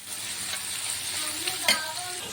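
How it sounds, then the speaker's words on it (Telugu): Onions, green chilies and prawns fry in oil with a constant close sizzle, overlaid by a few spoon stirs and a sharper metallic scrape toward the end. "గోల్డెన్ ఉల్లిపాయలు బ్రౌన్ కలర్ వచ్చే వరకు కూడా మనం ఫ్రై చేస్తున్నామండి"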